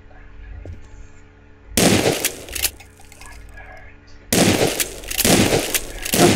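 Video game shotgun fire in Prop Hunt comes as two loud, dense bursts of blasts separated by a quieter gap, with faint background sounds between them.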